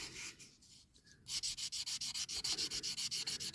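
A diecast Corgi Toys Standard Vanguard model car from 1957–59 being rubbed with finer grit sandpaper: a brief quiet scrape, then a run of about a dozen quick, even back-and-forth sanding strokes, close and alone.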